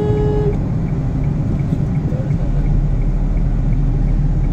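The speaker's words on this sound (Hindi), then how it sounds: "अभी ये मेरा दोस्त कुलदीप गाड़ी चला रहा है और मैं इंजॉय कर रहा हूँ राइड" A Hyundai i20 Sports petrol car is driving with a steady low road and engine rumble from inside the cabin, with a brief tone at the start and no talk.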